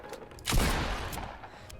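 A gunshot fires through a window edit in the Fortnite video game, one sharp loud crack followed by a brief rumbling tail, with faint game noise before it.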